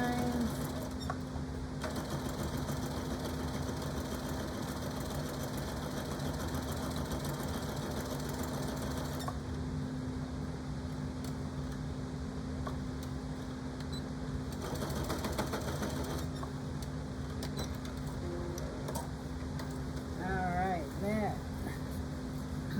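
A sewing machine stitches a denim phone pouch, a steady close mechanical whir and rattle running in long bursts with brief pauses, with a voice speaking near the end.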